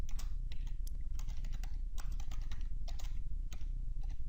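Rapid keystrokes on a computer keyboard while entering a line of Python code in a plain notepad editor, close and steady over a constant low hum, no voices.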